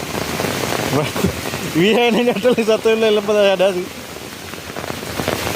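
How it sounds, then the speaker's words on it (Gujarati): Heavy rain pours down steadily as a constant broadband hiss, with a voice talking over it partway through. "જબરજસ્ત વરસાદ ચાલુ."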